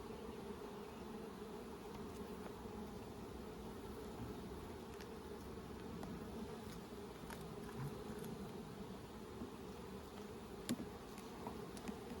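Honey bees swarm and buzz around an open beehive, producing a continuous, even droning hum with occasional louder passes of individual bees close by, with no talking.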